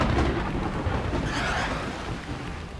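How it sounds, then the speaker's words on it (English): Slip Rain water spell cast in the game Final Fantasy Tactics A2, a steady loud wash of rushing rain and rumbling storm-like noise filling the whole moment without any voices. "Let's try Slip Rain, because I saw that these guys are weak to water."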